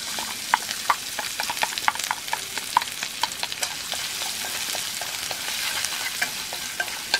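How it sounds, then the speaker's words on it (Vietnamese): Chili, lemongrass and garlic are stir-fried in a pot, with a steady close sizzle broken by frequent scraping and knocking stirring strokes, fairly loud and with no voices. "Cái số gia vị này thì mình sẽ xào trước nha mọi người, cho nó bốc hết cái mùi thơm nó ra"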